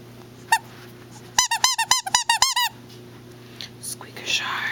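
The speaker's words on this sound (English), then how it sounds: "Squeaker shark. Squeaker shark." A squeaker shark dog toy squeaks in a quick burst of about eight sharp, rhythmic squeaks near the middle, after one lone squeak earlier, with faint rustling and handling noise around it.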